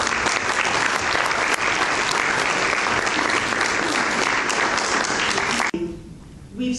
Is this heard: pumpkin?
no